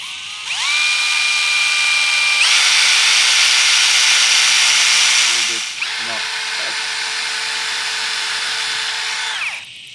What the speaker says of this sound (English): See if we can drill through it.